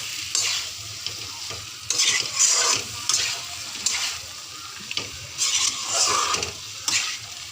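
Potatoes and pointed gourd with tomato being stirred and fried in a pan for a fish curry, a steady sizzle broken by repeated scraping stirs of a utensil against the pan, close and clear with no talking.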